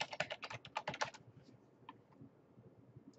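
Rapid keystrokes on a computer keyboard while entering a name for an icon in Windows icon-making software, a close burst of quick clicks for about a second and a half, then a few sparse taps.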